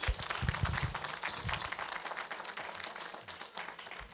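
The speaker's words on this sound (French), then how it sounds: "Bernard Beau, applaudissements, s'il vous plaît" Steady applause from a crowd, a dense wash of clapping that carries on evenly for a few seconds before easing slightly.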